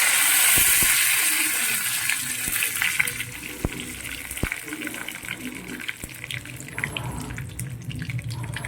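Curry leaves drop into hot oil with spluttered mustard seeds, a tempering for guava chutney, and set off a loud, close sizzling hiss that slowly settles, dotted with a few sharp crackles.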